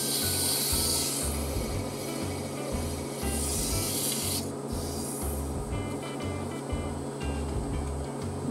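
Wood spinning on a lathe is sanded with 400-grit paper, a steady rasping rub pulsing in a fast regular rhythm against the turning piece, close and continuous with a brief lull near the middle.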